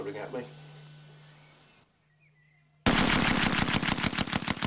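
Vickers machine gun fires a loud, rapid sustained burst that starts abruptly and runs steadily to the end, following a quieter stretch of low hum.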